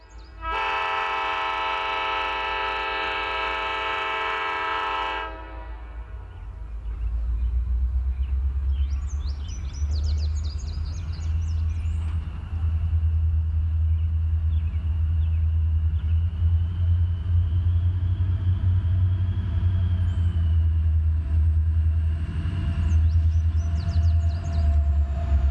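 CSX pusher locomotives head back toward Cowan after a mountain shove: a loud horn blast opens, then a deep diesel rumble and rolling wheel noise build and hold close, with faint squeals and clanks above.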